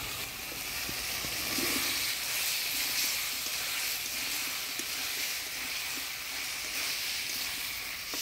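Yam sautéing with spices in a pan over a village cooking fire, a steady broad hiss and sizzle running throughout with faint scattered clinks, moderately loud and close, no talking.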